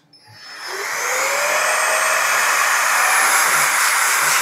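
A Roedix AD33 electric air duster spins up from quiet into a loud, steady blowing whoosh with a rising whine, close up and running continuously with no talk.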